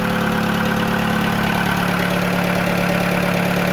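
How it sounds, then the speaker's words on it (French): A Volkswagen Polo engine idles steadily and close by during a coolant top-up after a heater hose replacement, a constant even hum with no voices. "Voilà, moteur tournant."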